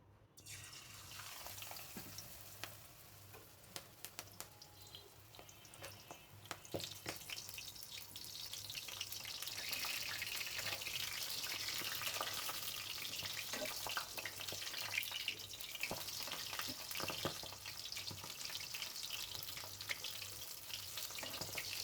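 Malabar spinach leaves hiss and sizzle as they drop into hot oil in a pan, a steady bright frying crackle that swells after the first few seconds and holds, with no talking.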